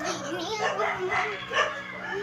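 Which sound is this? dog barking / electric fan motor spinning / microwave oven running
dog barking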